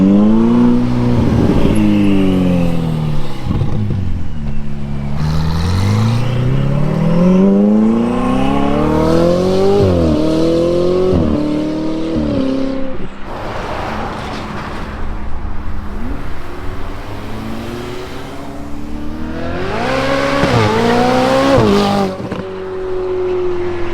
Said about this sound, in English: This exhaust does drone a little more than the 458 for some reason.